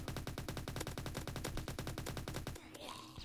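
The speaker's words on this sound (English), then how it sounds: "time to get out my toy gun for some reason. It's called Tommy gun" A Tommy gun fires in the zombie shooter game Undead Defense Tycoon: rapid, evenly spaced automatic bursts for about two and a half seconds, then it stops abruptly, leaving faint game noise.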